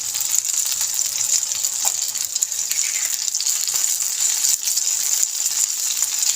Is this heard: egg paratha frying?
yes